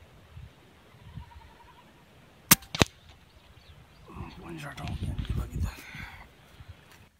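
A PCP P15 or M16 Artemis air rifle fires outdoors at a natural spot, giving two sharp, loud cracks a fraction of a second apart, followed by people talking nearby.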